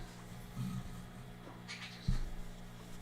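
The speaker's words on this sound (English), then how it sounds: "You sweet chunky cat." A chunky cat meows twice indoors, short soft calls about a second and a half apart, over a quiet room hum.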